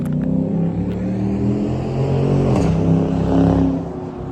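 A Mopar car revs its engine somewhere behind, the sound a loud, continuous engine drone that swells and eases, with no talking over it.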